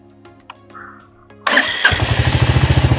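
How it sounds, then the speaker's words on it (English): After a few clicks, a Royal Enfield Hunter 350 motorcycle engine cranks and fires up, then settles into a loud, rhythmic, pulsing idle. "So let me just turn on the motorcycle. There is the ignition"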